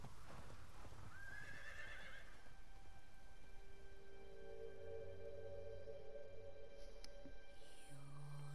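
A horse in the Ghost of Tsushima video game whinnies and snorts amid steady clip-clop of hooves, with a soft rain-like ambient bed underneath and game music tones.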